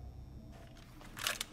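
Magazine swap during a reload in Rainbow Six Siege, a short mechanical clack and click near the end after a low rumble, brief and close.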